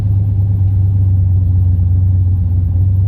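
Turbocharged Cadillac Escalade engine idling steadily around 1,000 rpm after several minutes of running, a constant low droning hum with no variation, close and alone.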